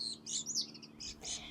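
Bird chirps from a robin near its nest, a series of short high tweets repeating across the moment, fairly close with a steady low hum beneath.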